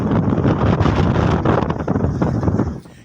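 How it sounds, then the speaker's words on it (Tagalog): Strong wind at sea off Balabac, Palawan, buffeting loudly and steadily, with a rough, gusty rumble that eases off at the end. "Dahil sa malakas na hangin at alon sa dagat na sakop ng Balabac"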